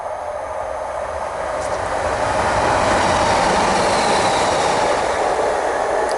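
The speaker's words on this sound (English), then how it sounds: "Sorry, I'm going to pause now because there's a train coming past." A train passes nearby with a loud, steady rumbling roar that swells slightly and holds for several seconds. No voices are heard over it.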